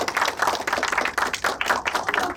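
Dense, close applause from an audience at a Korean talk and cultural event ahead of a violin performance, a steady run of brisk hand claps with no voices.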